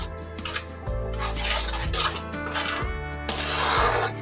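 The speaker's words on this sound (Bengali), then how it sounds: "এটা ঘন ঘন নাড়াচাড়া করে নেব, নয়তো নিচে লেগে যেতে পারে।" A thick paneer butter masala is stirred in a pan, with repeated scraping and clinking of a spoon against the metal and a few louder knocks, close by, over a low steady hum.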